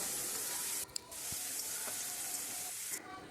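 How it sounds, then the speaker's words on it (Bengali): Chopped onions with whole garam masala fry in hot oil, a steady, fairly soft sizzle with a couple of brief clinks from stirring. "গরম মশলা ফোড়ন দিলাম আর পেঁয়াজ কুচোনা দিলাম"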